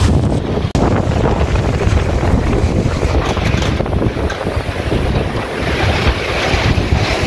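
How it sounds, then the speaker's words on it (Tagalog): Strong typhoon wind roars continuously through El Nido, Palawan, buffeting the microphone with loud, unbroken gusts and a dense rushing wash, with no voices heard. "Lakas ng ano ng hangin"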